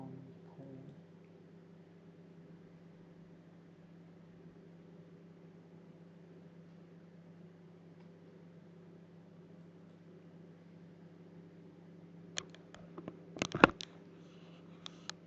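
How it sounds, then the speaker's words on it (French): A microwave oven runs with a steady, low electrical hum that holds evenly throughout, then a few sharp clicks and clatters near the end. "donc un four à micro-ondes ou plus simplement un micro-ondes"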